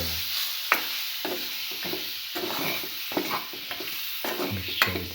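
A chicken liver mixture is stirred in a hot pan, with repeated scraping strokes of a utensil over a constant gentle sizzle, close up and without talk.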